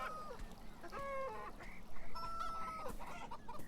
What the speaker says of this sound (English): she can hear chickens.